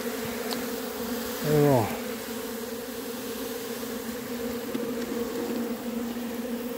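Bees at a hive buzz in a faint, steady drone beneath a brief louder burst, and a person says a single word at the start.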